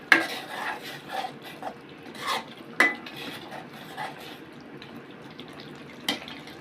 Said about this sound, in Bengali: তিনটে কাঁচামরিচ এবং আলুগুলো দেওয়া হচ্ছে, ভাজা আলুগুলো দেওয়া হচ্ছে।